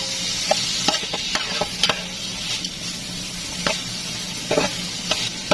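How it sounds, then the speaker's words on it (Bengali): Cumin seeds are stirred into rice frying in a pan, making a steady close sizzle. Repeated scraping and tapping of a spoon against the pan run through it, with no voices. "এখানে দিয়ে দেবো জিরাগুলো মিক্স করে"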